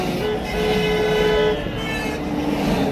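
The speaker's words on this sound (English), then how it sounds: "Yes, people are honking, folks." Horns sound along a road during a vehicle convoy to Salem, Oregon, holding as steady sustained tones against continuous traffic noise, with no talk.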